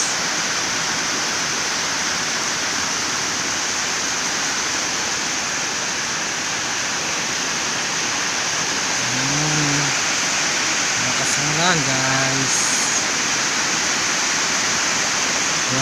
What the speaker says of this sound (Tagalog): lakas ang ulan. Naririnig nyo ba yan guys?